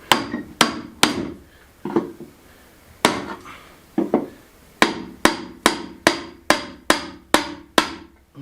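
A cooper hammering on a wooden barrel while working off grid in southern Spain: sharp, ringing blows struck one at a time, spaced irregularly at first, then falling into a quicker steady rhythm, close and clear.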